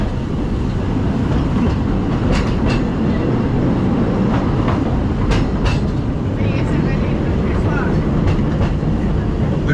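The Walt Disney World Railroad train at the Magic Kingdom rumbles steadily along the tracks with rattling and clacking, loud and continuous, with occasional squeaks and voices mixed in.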